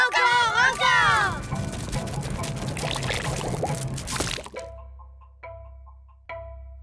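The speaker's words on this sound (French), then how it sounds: "J'ai bien cru un moment que nous allions avoir droit encore une fois à un torrent de gelée." In a cartoon, a magic basket pours out a torrent of jelly, a loud gushing pour under a squeaky high voice, then a few sparse drips and small splats as the flow ends.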